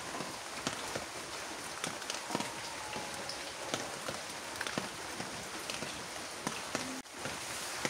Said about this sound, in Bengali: বাহিরে টিপ টিপ বৃষ্টি পড়তেছে